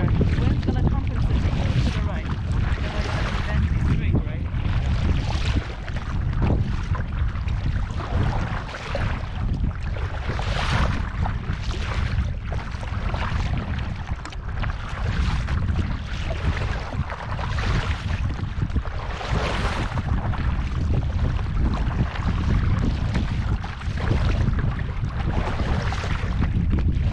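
Strong wind buffets the microphone while paddling an Advanced Elements inflatable kayak on Cache Lake in Algonquin Park, a loud, steady roar with gusty swells running throughout.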